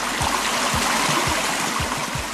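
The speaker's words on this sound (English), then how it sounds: "This is what ultimately becomes a nice little brook. One that you can hear. It's pretty lively." A lively brook on a Maine farm rushes and burbles steadily up close, a loud continuous wash of flowing water with small rhythmic gurgles underneath.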